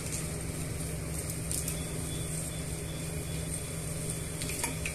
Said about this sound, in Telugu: ఇలా సన్నగా తురిమి పెట్టుకున్న బీన్స్ ముక్కల్ని ఈ పోపు దినుసుల్లోకి వేసుకొని ఒక 2 నుంచి 3 నిమిషాలు మూత పెట్టుకొని ఉడకనివ్వాలండి.